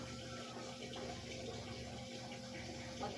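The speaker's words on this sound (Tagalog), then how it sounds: "Sa kamay na naman po yung agas ng tubig dito sa gripo ng lababo" Tap water runs from a sink faucet into a basin, a steady broadband hiss and splash that stays even and fairly faint for the whole stretch, with no voices.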